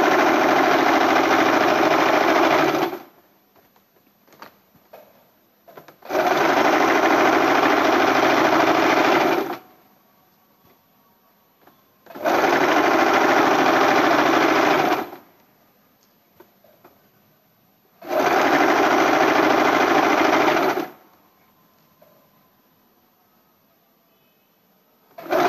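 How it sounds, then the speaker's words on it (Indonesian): Sewing machine stitching a garment, running in four steady bursts of about three seconds each, separated by quiet pauses, loud and close. "Jahit yang rapi, jangan sampai jahitannya itu naik turun. Ya. Dijahit yang lurus."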